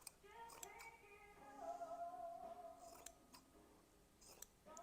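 Antique scissors, just tightened, snipping a few times up close, with faint metallic ringing and scraping of the blades between crisp cuts.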